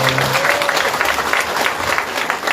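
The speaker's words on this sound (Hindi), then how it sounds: "अपने लिए ताली बजाकर धन्यवाद दे दो" A large devotional gathering in New Zealand claps steadily in thanks. The applause is dense and sustained, with a brief voice or tone heard at the very start.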